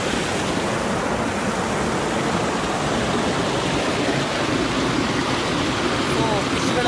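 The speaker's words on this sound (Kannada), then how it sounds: "ಇಲ್ಲಿ ನೀರು ಬೀಳ್ತಾ ಇದೆಯಲ್ಲ" A small river spills over a bamboo crab-trap barrier, giving a loud, steady rushing roar of falling water that stays close and constant throughout.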